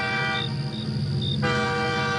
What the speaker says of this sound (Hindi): तभी दूर से एक हॉर्न सुनाई देता है।